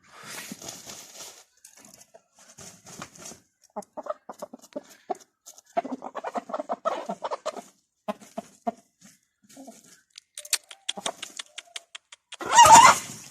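Indian game rooster and hens clucking softly in short, scattered bursts nearby, with some rustling, ending in a louder flurry of flapping and squawking.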